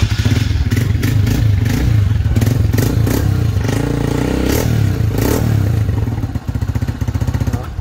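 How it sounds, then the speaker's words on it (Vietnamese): A used motorcycle engine idles close and loud, a steady rhythmic thudding putter with a light mechanical clatter, and a couple of brief rises in revs before it settles back. "Máy cực kỳ êm luôn, mình để lổ thử cho anh em mình nghe này."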